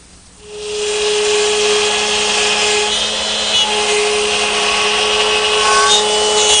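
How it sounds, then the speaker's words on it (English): A router fitted with a 3/8 inch spiral bit cutting a groove in wood starts up and runs with a loud, steady high whine and a constant tonal hum, the cutting noise continuing evenly close by without talk. "I think I have better control of the router using 2 passes"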